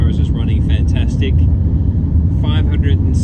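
A Nissan X-Trail cruises along an outback highway, its steady engine and road rumble droning continuously beneath someone talking inside the cabin.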